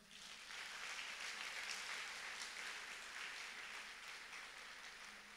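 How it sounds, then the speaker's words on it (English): A large crowd at a religious youth gathering claps together in a continuous, dense wash of hands, quiet and distant and with no speech over it. "All of you, clap your hands."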